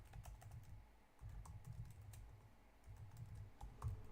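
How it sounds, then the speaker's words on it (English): Typing on a computer keyboard in quiet bursts of soft rapid key clicks with short pauses between, close and faint, with no speech. "A lot of typing today."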